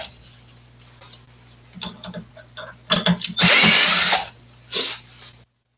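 A power drill unscrews a faceplate at a maker workshop: scattered close ticks and clicks, then a loud continuous whir of about a second, followed by a shorter burst of drilling before it stops.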